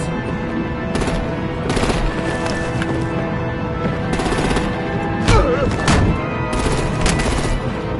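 Gunfire rattles in Batman The Enemy Within, a series of rapid automatic bursts repeating across the scene, loud and close among game sounds and music.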